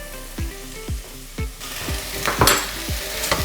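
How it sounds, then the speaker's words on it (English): Vegetables sizzle steadily in a hot pan while a utensil stirs them in regular scraping strokes about twice a second, close and clear with no talking. "Turn that heat back up slightly, give it another stir, and just let them get to know one another a little bit better in the heat"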